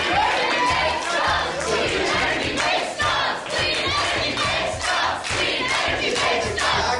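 Protesters crashing a climate deniers' press conference shout and chant in loud, rhythmic bursts, a dense close crowd of raised voices pulsing throughout.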